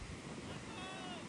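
Sea waves washing onto a beach in Goa, a broad steady surf roar with wind buffeting the microphone, over a brief moment.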